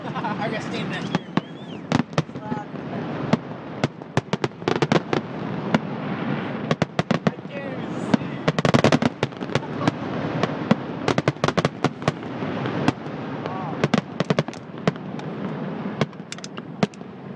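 Fireworks burst over Table Rock Lake in a dense, continuous barrage of sharp cracks and booming pops, some very close and loud, with excited voices and cheering mixed throughout.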